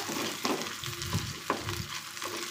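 Food for a quick pappu sizzles in a pan while a spoon stirs it, with a constant frying hiss broken by several soft scraping strokes at a loose, regular rhythm.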